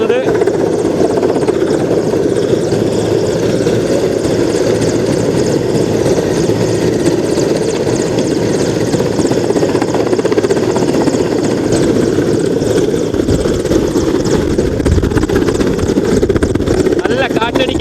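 A military helicopter descends over Mundakkayam, its loud, steady rotor thrum and engine whine filling the whole stretch while a person talks over it.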